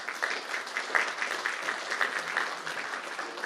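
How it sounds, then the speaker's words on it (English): An audience at a live talk show event at the Danube Institute applauds, a dense steady patter of many hands clapping throughout, moderately loud and without speech. "that applause should be for you"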